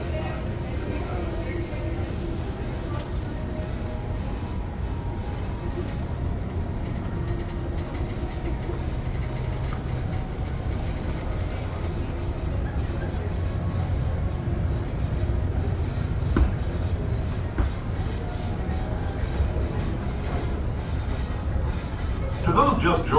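Disneyland Railroad sweeper train rolling along the track, a steady loud rumble and rattle of the railcars with faint clicking, heard from on board throughout.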